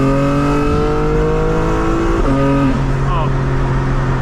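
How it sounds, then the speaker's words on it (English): A 2024 BMW M4 Competition xDrive (G82) revs its exhaust at a car meet, a loud nearby drone of rising and falling engine tones that stays constant without pause. "let's get some exhaust noise"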